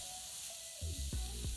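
Eggplant slices frying in a pan give a constant close sizzle and hiss, joined partway by a few soft knocks and bumps from handling, with no voices present.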